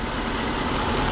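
The 5.7-liter Hemi V8 in a 2022 Ram 1500 Sport GT idles with a steady, even rumble, close up and alone, lasting just over a second.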